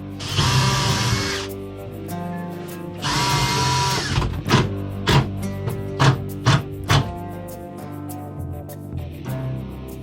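A power drill drives screws into boat fitting mounts, two long whining motor runs followed by a series of short sharp bursts, close and loud.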